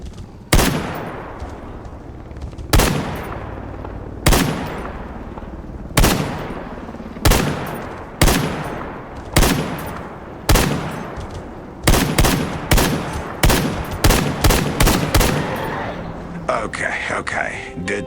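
Repeated SKS rifle shots in the video game STALKER GAMMA, loud single reports spaced a second or two apart, then a rapid cluster of shots near the end.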